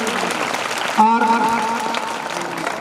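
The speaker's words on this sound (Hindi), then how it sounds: "जोरदार तालियां बजा दे इसके लिए।" A crowd applauds at a government school's annual function in 2022, honouring a student selected for national-level cricket. The clapping is steady and fairly loud, with a brief voice cutting in near the middle.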